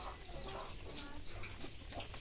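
A chicken clucks faintly in short, scattered bursts against a steady hiss of background noise, with no clear talking.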